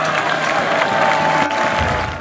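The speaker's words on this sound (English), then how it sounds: "It is unusual to hear people cheering for the Russian team." A crowd in Serbia cheers and applauds for the Russian HMB team, a dense, steady roar of clapping and voices that tails off near the end.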